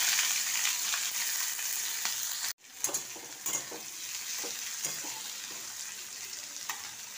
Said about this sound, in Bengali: তেল গরম হয়ে গেছে, এবার দিয়ে দিলাম মাঝারি সাইজের দুটো পেঁয়াজ।